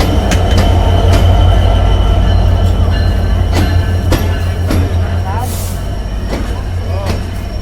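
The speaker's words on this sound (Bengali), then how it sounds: "আর ওই যে একতা প্রবেশ করছে, একতা প্রবেশ করলো লোকোমোটিভ 66-8।" The Ekota train, hauled by locomotive 66-8, pulls into Parbatipur station with heavy low rumbling, rhythmic wheel clicks over rail joints and brief squeals, loud and close throughout.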